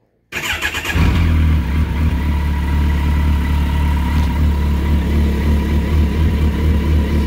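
Motorcycle engine firing up abruptly after silence, then settling into a loud, steady, throbbing idle close to the microphone.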